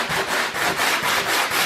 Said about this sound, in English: Bit of a ridge here on the edge of this carbon fiber ribbon, so I take that down so the Kevlar will lay on smoothly and flat.